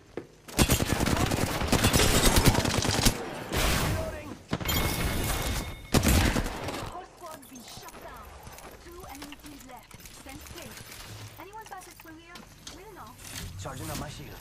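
Rapid bursts of gunfire in the Apex Legends battle royale game, loud dense volleys in the first half, then sparser shots and clatter under excited talk.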